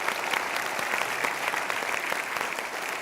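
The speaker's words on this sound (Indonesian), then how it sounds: "Kita berikan tepuk tangan." An audience claps together at a motivational talk show, a dense, steady wash of applause that fills the whole moment at an even level with no voices on top.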